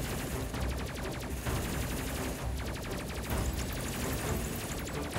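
Missile launches in the space combat game Space Crew, a dense, continuous barrage of rapid booming shots and crackling blasts with pulsing rhythm, loud and steady throughout with no talk.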